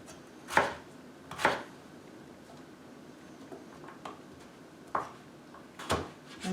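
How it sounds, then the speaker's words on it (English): A knife chops potatoes into skinny fries on a cutting board, giving several sharp, distinct thuds spaced irregularly, close and moderately loud over a quiet kitchen background. "he's cutting these more like skinny fries versus steak fries to get started"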